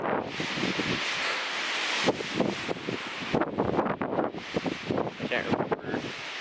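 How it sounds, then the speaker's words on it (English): Gusting wind buffets the microphone on a mountain trail in the Sierra, a broad roaring rush that rises and falls in uneven surges, close and loud throughout. "Let's take a break from the wind here."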